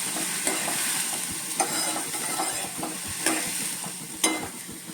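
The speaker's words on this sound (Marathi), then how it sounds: "डाळिंब्या पूर्ण निथळवून मी फोडणीवर घातल्या आणि आता मी त्या जरा ढवळून घेते" Field beans (dalimbi) are stirred into hot oil tempering. The oil sizzles steadily and close, broken by repeated scraping strokes of the spoon against the pan, with no talk.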